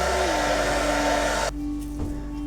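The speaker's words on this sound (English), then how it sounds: "I'm just going to blow dry it just to give it so that it can melt in the skin" A hair dryer blowing on box braids, a loud steady whooshing drone whose pitch drops as the setting changes, then a quieter running hum.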